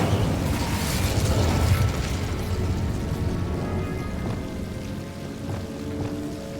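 Incendio fire spell cast in Hogwarts Legacy: a loud, rushing burst of flame that swells at the start, then roars on and slowly fades over several seconds.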